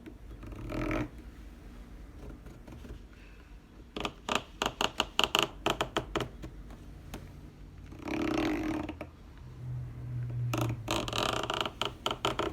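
A leather saddle cantle binding is hand-stitched, giving rhythmic creaks and squeaks as thread is drawn through the leather. The sounds come in close clusters of sharp pulls with quieter stretches between them.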